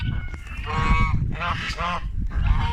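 A goose among farmyard poultry gives a run of loud, nasal honks close up, several calls in quick succession with other fowl faintly around and no speech.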